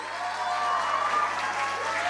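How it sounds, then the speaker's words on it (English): Graduation ceremony audience applauding their teachers, a steady, even wash of clapping held at moderate loudness for the whole stretch, with a faint murmur of the crowd beneath. "Please give a huge round of applause for your teachers too"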